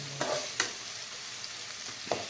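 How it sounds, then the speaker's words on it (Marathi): Capsicum and carrot frying for veg pulao in a pan, a soft steady sizzle with a few brief spoon clicks against the metal. "थोडं फ्राय करून घेऊ। शिमला आणि गाजर थोडंसं नरम होईपर्यंत 2 मिनिटं वेट करायचं।"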